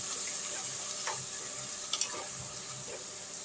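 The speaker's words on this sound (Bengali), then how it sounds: "আমি সবজিগুলো সেদ্ধ করার যে ভেজিটেবল স্টক ছিল সেটা একটু দিয়ে দিলাম ওর মধ্যে।" Vegetable stock is poured over fried cauliflower in a pan, bringing a soft, steady sizzle and faint bubbling with a few light clinks, fairly quiet and close.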